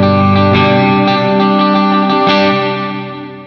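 Distorted electric guitar chords ring through a G-Lab Rebel Series reverb pedal, sustained and dense with repeated strums, then the wash lingers and fades at the end.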